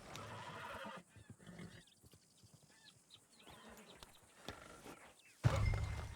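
A horse in Red Dead Redemption 2 gives a short whinny, followed by faint snorts and hoof sounds at a moderate distance, ending in a louder burst of movement.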